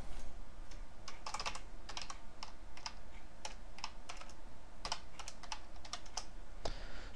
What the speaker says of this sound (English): Let me shrink this down so you can see me actually typing these out.